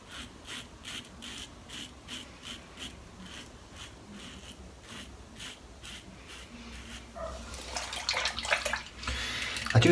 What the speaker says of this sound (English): when you dip it in the water to rinse it, you need to shake it out a bit